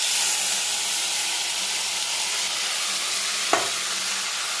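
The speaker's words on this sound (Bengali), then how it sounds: "এবার সেদ্ধ করে রাখা ডালটা নিয়ে এর মধ্যে অ্যাড করব।" Boiled lentils (dal) go into a pan of spiced vegetables, giving a steady loud sizzling hiss with a brief clunk of a utensil against the pan near the end.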